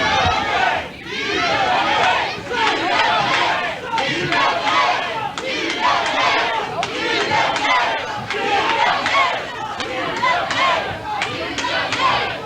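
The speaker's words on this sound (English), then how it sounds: "this crowd is going wild" A dense wrestling arena crowd roars and shouts continuously during a UWA tag team match between Dave Pillman and Chris Gorgeous and Lance Thomas and Lynn Storm, the loud, wild cheering sustained throughout.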